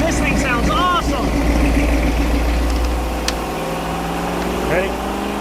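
A Ford 460 big block V8 from after 1979 rumbles steadily through Flowmaster Super 40 mufflers, a loud deep drone that holds throughout while a person talks over it.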